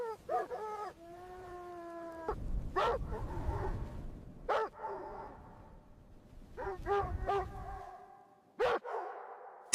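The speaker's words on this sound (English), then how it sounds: "their dog barks to wake up its owner" A dog barks in short repeated bursts in the morning outside a large wooden shelter in freezing cold, several sharp barks and whining calls spread across the clip, fairly close, with a low rumbling background between them.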